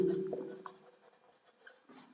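A lecturer writes on a board during a physiology lesson on white blood cells, giving soft scratchy strokes that are faint and a little distant, with room hum underneath and no clear speech.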